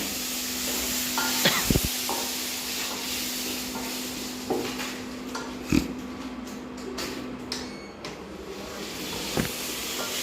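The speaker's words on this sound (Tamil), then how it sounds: "சரி இப்போ நான் இதுக்குள்ள அரைச்சி வச்சிருந்த உள்ளி போட்டேன். பச்சை வாசனை போக மட்டும் இது நல்லா மிக்ஸ் பண்ணி" Ground garlic paste fries in a pan and is stirred, giving a soft, steady sizzle and hiss with occasional scraping knocks from the utensil. No one speaks.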